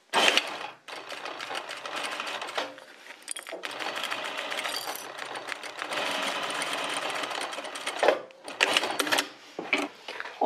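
A sewing machine stitches along a fabric edge, running in a steady fast close whir with brief pauses and restarts, and no talk.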